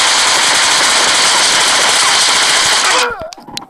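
Loud, sustained automatic gunfire rattles without pause in the video game PUBG Mobile for about three seconds, then stops abruptly, leaving brief scattered sounds.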